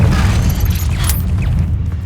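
The Incendio fire spell goes off in Hogwarts Legacy, a loud deep whooshing burst of flame with a rumbling low-end boom that fades out quickly.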